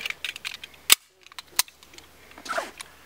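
1911 pistol fired at a steel hostage target, producing two sharp, loud cracks about a second apart among fainter clicks and rustles.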